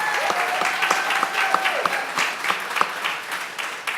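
An awards ceremony audience gives a steady round of clapping for a director's work, a full, even patter with a few sharper claps standing out near the front.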